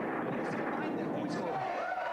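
Rapid gunfire rings out in a Western-themed shooting video game featuring a jailhouse and sheriff, on a TV games show. The steady, dense, booming shots play continuously under an excited commentator talking over the action.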